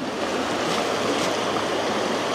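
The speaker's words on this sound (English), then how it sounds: "So we're just on the side of this river here." A river running high after heavy rain and snowmelt roars in a dense, continuous rush of water heard close from the bank, steady and loud without pause or speech.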